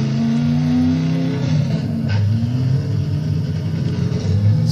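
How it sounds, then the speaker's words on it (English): A vehicle in the video game Borderlands driving along, a loud steady engine drone with low harmonic hum that shifts in pitch slightly as it moves, continuous and close with no talk. "the only bad thing about the Borderlands vehicle is how slow it is"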